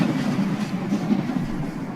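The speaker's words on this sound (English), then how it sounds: "So there's the train, and we just heard the train." A train passing in the video game A Walk Up Killiney Hill, a steady low rumble with faint rhythmic clatter, heard alone at moderate volume throughout.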